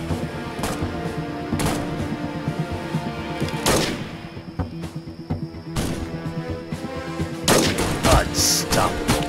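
Sniper rifle shots in the Sniper Arena PvP army shooter mobile game, several sharp booming cracks spaced a couple of seconds apart over game music and announcer callouts.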